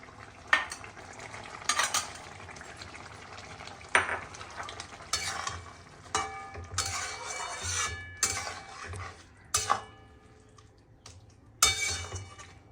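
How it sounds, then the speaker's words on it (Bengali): Fried mourala fish stirred into a half-cooked eggplant curry in a pan, giving a low steady sizzle broken by repeated bursts of scraping and spoon clinks at an uneven rhythm, close and moderately loud, with no talking. "এবার আমি ভেজে রাখা মাছগুলো সব দিয়ে দেব।"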